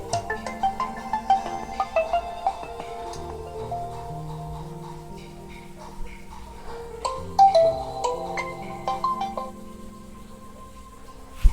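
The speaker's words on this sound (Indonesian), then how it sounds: "Sorry guys, ada telepon." An incoming-call phone ringtone plays a repeating melodic pattern of bright tones in clear bursts, fairly close and moderate in volume, with no talking over it.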